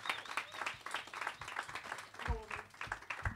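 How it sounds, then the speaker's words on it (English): Comedy club audience applauding as the next comic takes the stage, a moderate patter of clapping and crowd noise running throughout, with a voice briefly heard over it. "keep that applause going for the next act of the stage, George Wheeler, everybody."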